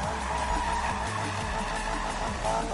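A car drifts in a PS4 racing game, with a steady roar of engine and tire squeal that holds loud and unbroken throughout.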